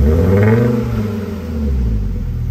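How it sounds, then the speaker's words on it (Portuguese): A Fiat Marea with a smoking fault revs lightly, the engine rising in a brief gentle swell and then easing back toward idle, close and loud with no talking. "Dá uma aceleradinha de leve aí"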